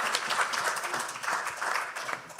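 A convention audience claps during a panel, a dense, fairly faint spread of clapping from a crowd, continuous throughout.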